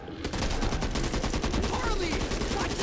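Sustained rapid gunfire from a teammate in the co-op shooter game Back 4 Blood, a dense continuous burst of automatic shots running loud and close for nearly three seconds.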